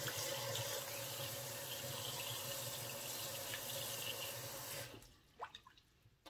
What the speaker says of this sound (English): I'm going to be placing it in this pot, and I'm going to be covering it with water.